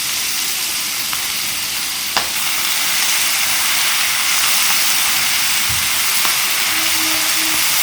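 Chopped spinach sizzles and fries steadily in a pan with asafoetida and spice powder, a continuous close hiss with a few faint clicks and utensil taps and no talking.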